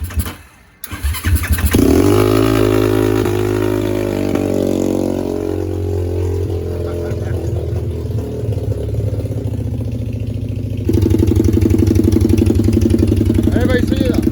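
Zongshen 190 motorcycle engine, previously broken down, cranks and catches, then runs loud and close with a rough idle that revs up near the end in a workshop.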